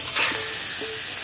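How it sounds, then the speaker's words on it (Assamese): Food fries in oil in a pan on a gas stove, giving a soft, steady sizzle with a couple of brief stirring scrapes, close and fairly quiet, with no speech. "এতিয়া গ্যাসটো কমাই এরে ভাজি লও"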